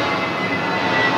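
Airplane passing overhead near a beach resort in Montego Bay, Jamaica, a steady broad engine roar heard alone for a short moment.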